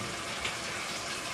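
Water from a kitchen tap gushes steadily into a pot for chicken and dumplings, a continuous hissing rush heard close up without talk.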